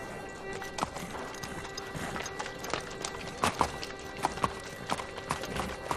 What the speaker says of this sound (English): The horse's name's Monaghan Boy.